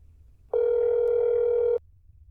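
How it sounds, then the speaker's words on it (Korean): A steady telephone dial tone from a video game sounds alone for just over a second, starting and stopping abruptly against near silence. "전화를 해보자"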